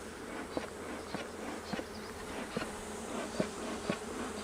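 Honey bees buzz around an open hive being split in spring, a dense steady hum with individual insects zipping close past, no voices.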